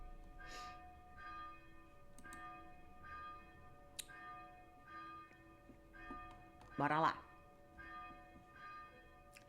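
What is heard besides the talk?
church bell tolling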